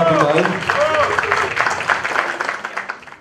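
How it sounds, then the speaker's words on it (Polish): Energetic applause from a concert audience after a charity auction at a birthday concert, full and close with some cheering voices over the clapping, gradually thinning. "Duże brawa"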